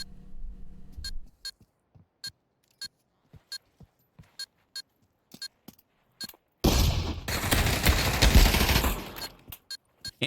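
Sharp, sparse pistol shots crack out one by one in a PavlovVR competitive match, a dozen or so isolated reports spread across the stretch, with a burst of dense louder gunfire and noise in the middle.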